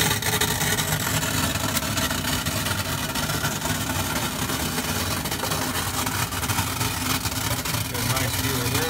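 A Satake FMS2000-F optical sorter processes crushed quartz, a continuous, even mechanical drone of machinery and flowing material with faint rattling texture, steady and close with no pauses.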